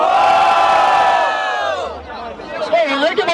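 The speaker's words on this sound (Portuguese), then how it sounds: "Barulho pro Thiago" A crowd at a Brazilian rap battle cheers and shouts in a loud, close burst of roaring voices that fades slightly before scattered whoops and calls rise again.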